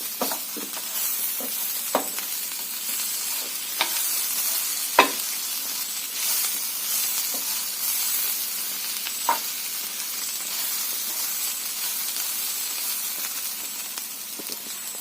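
Prawns and onion fry in a pan with a constant close hiss and sizzle, broken by sharp clicks and knocks as a spoon stirs them every few seconds.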